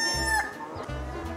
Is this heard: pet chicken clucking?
yes